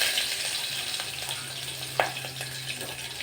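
Chopped onions and green chillies hit hot oil with roasted chana dal, mustard seeds and cumin, giving a steady close sizzle with a sharp crackle partway through and no voices.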